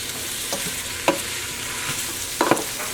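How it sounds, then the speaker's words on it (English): Sliced onions for French onion soup sizzle steadily in a pan while a flat spoon stirs them, with a few distinct scraping strokes rising above the frying hiss. "Use a flat spoon and stir this. I want to coat the onions."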